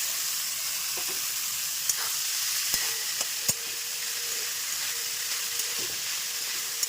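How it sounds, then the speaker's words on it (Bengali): Banana blossom frying with potatoes in oil over a low flame, a steady soft sizzle and hiss with scattered clicks and taps of stirring, no voices. "আর এই আলুর সঙ্গেই ভেজে নেবো আরেকটু এই মোচাটাকে"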